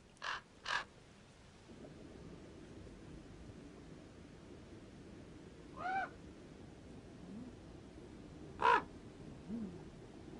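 Ravens in an Austrian nature reserve give a few distinct caws, two close together at the start and others spaced out later, over a quiet outdoor hush.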